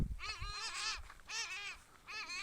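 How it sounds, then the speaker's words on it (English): Birds on an open field give three loud harsh cawing calls in quick bursts, close by, with short pauses between them. "These are normal birds that I usually see here on the field."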